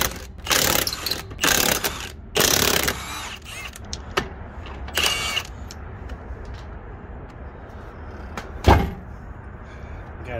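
A rear tire on a 2016 Traverse, Acadia or Buick Enclave is struck repeatedly to knock it off the hub, giving loud, sharp, irregular thumps and clanks with quiet pauses between them, including one final hard hit.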